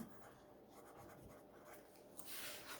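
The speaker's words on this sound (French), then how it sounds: "je vais écrire dessus" A pencil drags faintly over paper coated with a layer of Vaseline, giving a soft, muffled scratching stroke up close that grows slightly rougher near the end.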